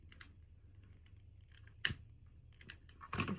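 Scissors snip through ribbon to shape the ends for a large patriotic bow, giving a few crisp, close cuts with small handling noises in between and no talking.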